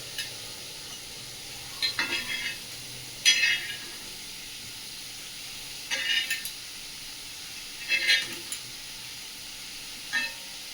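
Okra goes into a pan of sautéing onion and chili, with soft sizzling and intermittent stirring scrapes in short bursts every couple of seconds.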